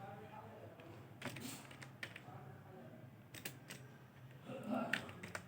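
Quiet, irregular clicking of keys on a computer keyboard as code is typed, in short clusters beneath a voice talking throughout.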